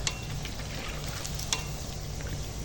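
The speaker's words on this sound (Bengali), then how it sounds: "তো বড়াগুলো ভেজে নিই" Masoor dal and pumpkin-leaf fritters fry in oil over low heat, giving a steady, soft sizzle with faint crackles and a couple of light taps partway through.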